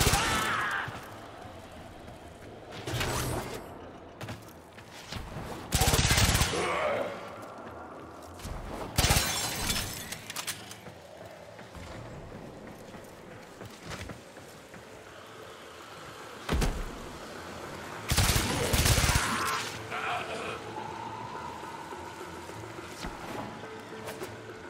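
Baza Prime gun in the Warframe video game firing in short, loud bursts separated by gaps of quieter combat noise and clatter, sometimes a single sharp shot, sometimes a longer volley.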